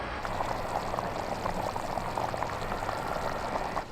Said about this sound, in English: Cook the macaroni, and then I'll stir in some cheese.